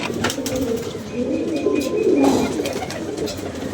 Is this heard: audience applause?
no